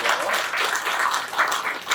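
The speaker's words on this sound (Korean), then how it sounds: "우리 큰 박수로 영광을 올려드리고요" Brief burst of congregational clapping at an outdoor Korean church worship service, steady dense applause lasting a couple of seconds.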